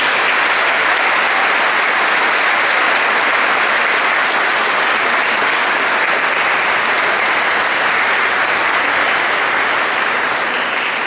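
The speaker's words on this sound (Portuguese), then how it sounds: "Uma salva de palmas para o nosso coral." Loud, sustained applause from a large church audience for a choir, a dense wash of clapping that continues unbroken from start to finish.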